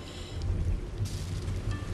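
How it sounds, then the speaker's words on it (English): Steady rain falls in a Minecraft world, a dense, continuous hiss with low rumbling underneath, filling the whole stretch with no voices. "This is hard in the rain because my sap keeps getting drained."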